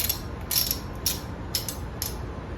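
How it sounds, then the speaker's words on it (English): A 10mm socket wrench ratchets while loosening bolts on a Mercury 60 HP four-stroke outboard engine, making several short, crisp clicking bursts spaced about half a second apart, close up with no talking. "10mm socket wrench."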